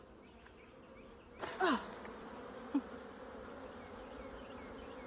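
Honey bees buzz around an opened hive during an inspection and mite treatment, a steady hum under a sharp, louder pass of one bee flying close, with a brief exclamation and a faint knock.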